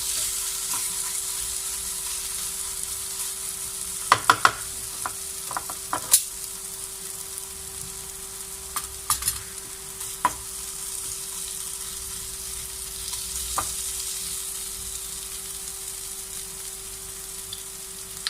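Chicken for shawarma cooks gently in a pan over low heat, giving a soft, steady sizzle with a few scattered clicks and light stirring scrapes; no one speaks.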